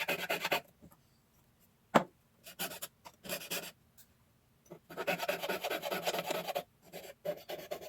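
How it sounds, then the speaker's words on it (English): A jeweler's saw cuts a metal shape for piercing, giving bursts of fine rasping strokes in quick rhythmic runs, separated by short pauses and one sharp tick, close and fairly quiet. "Let's continue sawing out the shape."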